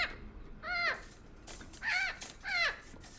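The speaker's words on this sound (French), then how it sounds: "tais-toi, oiseau débile" A bird gives three harsh, crow-like caws, each about a third of a second, evenly spaced and fairly close, over a faint background of quiet outdoor hiss.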